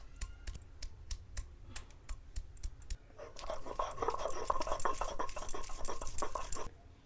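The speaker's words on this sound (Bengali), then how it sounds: "এবার আদা রসুনগুলোকে ভালোভাবে বেটে নেব।" Ginger and garlic are ground into a paste: sharp, evenly spaced clicks and taps first, then a dense stretch of gritty scraping and rubbing that stops abruptly near the end.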